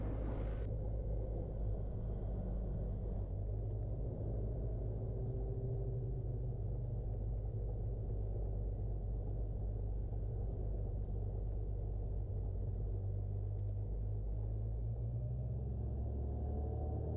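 Beechcraft Bonanza piston engines rumble low and steady through a formation takeoff bound for Oshkosh 2023, a continuous drone swelling slightly near the end, heard from inside the cabin with no talking.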